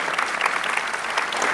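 A room full of people at a film Q&A claps for film editor Hank Corwin, a steady, dense burst of applause close around the listener, with no one speaking over it.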